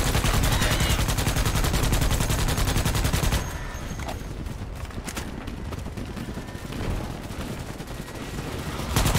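Rapid gunfire from shooting bugs in the video game Starship Troopers: Extermination, a dense continuous barrage at first that drops to a busier mix of scattered shots and effects.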